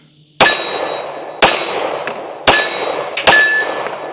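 Four sharp, loud shots from a Springfield XD Mod 3 pistol ring out about a second apart, the last two following each other more closely, each with a brief ringing tail and no talking.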